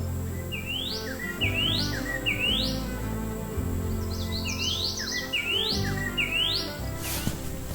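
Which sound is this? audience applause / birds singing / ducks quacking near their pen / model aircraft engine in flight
birds singing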